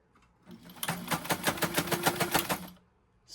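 A White model 1563 sewing machine runs a zigzag stitch in a rapid, even burst of mechanical clatter of about two seconds, with a steady motor hum underneath, close and clear with no talking.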